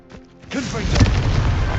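A Confringo blasting spell goes off in Hogwarts Legacy, a deep booming explosion that rises after a brief high chime and rumbles loudly, with a voice briefly heard at the start.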